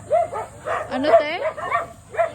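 Close by, a dog gives a run of high yips, whimpers and short barks in uneven bursts, with brief pauses between the cries.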